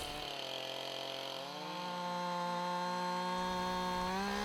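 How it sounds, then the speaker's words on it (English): A power saw cuts along the bottom of a wooden canoe with a loud, continuous, high-pitched motor whine that shifts slightly as it bites into the wood, heard up close with no talking. "I'll be cutting the bottom with a power saw."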